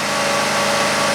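A Chevrolet Equinox engine with intermittent power loss runs steadily at about 3,000 RPM, a continuous even hum with a faint tonal whine and no pauses.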